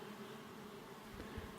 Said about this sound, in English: now see how you got so many bees on there?